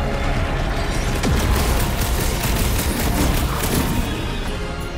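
Blaster fire from the Marvel's Guardians of the Galaxy video game blankets the scene in loud, continuous bursts with booming impacts and mechanical clatter, steady from start to finish.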